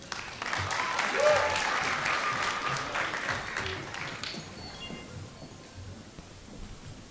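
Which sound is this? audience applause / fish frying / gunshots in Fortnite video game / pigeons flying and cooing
audience applause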